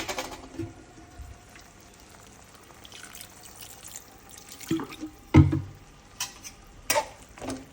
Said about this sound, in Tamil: இப்போது இவனை நல்லா கிண்டி விட்டுட்டு மூடி வச்சிடணும்